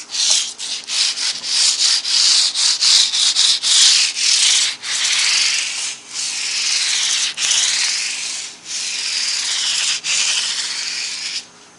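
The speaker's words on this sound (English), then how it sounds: "So now we will sand them up a little bit, try to get a little bit of polish to them" 320-grit sandpaper rubs briskly over metal guitar frets in continuous back-and-forth strokes, close, loud and hissing, with brief pauses between passes.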